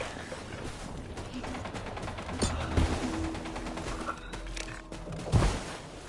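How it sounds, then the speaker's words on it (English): Gunfire in the video game Splitgate 2, a rapid spray of shots running steadily through the clip, with a couple of louder impacts standing out near the middle and toward the end, played against a busy game soundscape. "My mag was empty and I didn't miss a shot."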